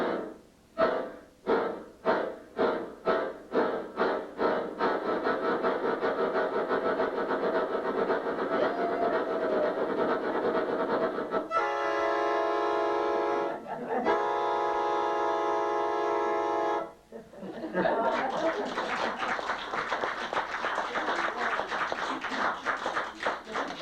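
Performers at a local grange gathering imitate a train: rhythmic chugging taps that speed up, then a loud two-part harmonic whistle blast, followed by a steady rushing roar to the end.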